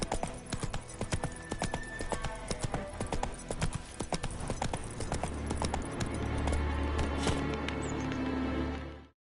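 Roach, the horse in Witcher 3, gallops in a fast, steady clip-clop of hooves that carries on throughout, then settles into a sustained rumble and cuts off at the end.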